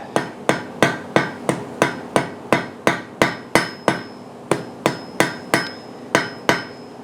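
A blacksmith's hammer taps a forge-welded trivet on the anvil in about seventeen sharp, evenly spaced metallic blows, each ringing briefly, loud and close with no voices.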